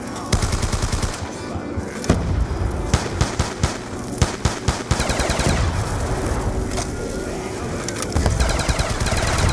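Automatic gunfire in Black Ops 2 Zombies on the Town map, loud rapid bursts and sharp repeated shots hammering through nearly continuous game noise, with short gaps between volleys.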